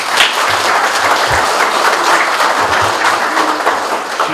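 Dense, steady applause from an indoor audience at a signing ceremony for funding agreements between town halls, a continuous wash of many hands clapping with no voices above it.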